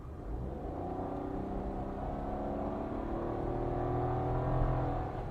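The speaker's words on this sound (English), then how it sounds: "But if I put my foot down, listen to this. I'm going to put my foot down now." Suzuki Swift GL+ with a CVT accelerating hard, a steady droning engine whose pitch climbs slowly and smoothly without gear changes, heard from inside the car with no talk.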